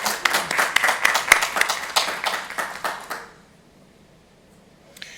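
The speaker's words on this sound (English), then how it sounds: "Let's give a big round of applause for all of our tech speakers." Meeting attendees clap for the tech speakers, a lively burst of many hands with distinct sharp claps that fades out after about three seconds into near silence, followed by a faint brief tap at the end.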